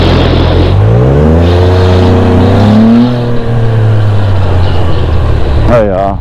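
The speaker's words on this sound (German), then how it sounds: "Ja, ja, wieder quietschende Reifen" A Can-Am Spyder roadster rides loudly with engine and road roar while rising and falling tonal squeals from its tyres cut through, ending in a brief sharp wavering squeal.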